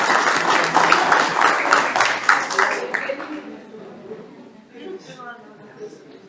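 Applause from a group at a course gathering, brisk clapping for about three seconds that breaks off, followed by quieter talk and room sounds.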